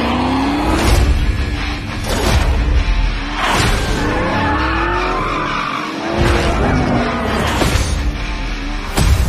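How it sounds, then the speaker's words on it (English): A Ford Mustang in a Call of Duty trailer drives hard and skids, with repeated tire squeals and engine revs rising and falling in several loud sweeps, close and continuous. "That's a Ford Mustang car."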